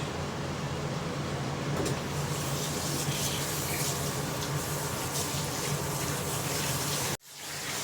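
Steady running water from a tap rinses a mud pack off a head during a non-surgical hair replacement treatment, a continuous close gushing hiss that holds evenly for about seven seconds before cutting off abruptly, with no voices.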